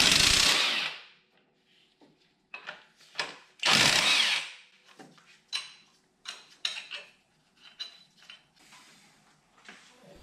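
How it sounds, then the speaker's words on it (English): A power tool works the camshaft bolts out of a BMW engine in short bursts, with two long, loud rattling runs and several quicker clicks and clatters between them. "Next, the camshaft bolts can be removed as well."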